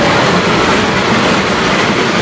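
A train rolls along the tracks across a curve near a trestle, a loud, dense and steady rushing roar heard up close from on board.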